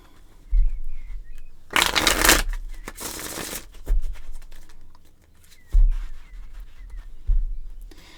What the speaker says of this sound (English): let's go ahead and get some cards out